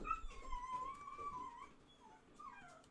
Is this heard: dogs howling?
yes